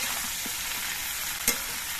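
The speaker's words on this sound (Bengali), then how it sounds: "এবার নুন আর হলুদের গুঁড়ো দিয়ে মিশিয়ে দিয়ে" Vegetables for shukto frying and being stirred with salt and turmeric, a continuous sizzle with soft scraping stirs and one sharp clack of the utensil against the pan.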